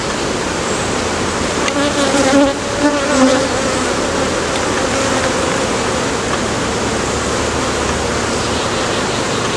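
Dense, loud buzzing of many honeybees close by, a steady swarming drone with no talking.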